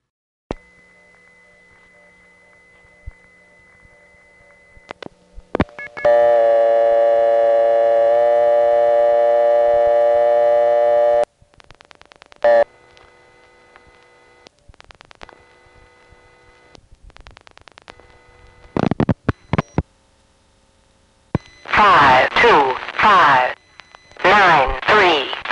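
Dial tone on a crossbar 1 line, picked up from a 525 payphone during a 1970 phone trip at Kennedy Airport: a faint steady tone first, then a very loud sustained harmonic tone for several seconds, followed by assorted clicks and shorter tone bursts.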